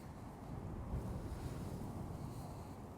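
Wind gusts across a microphone on a warm, windy day at the water's edge during carp fishing, a close, steady low rumble with no voices.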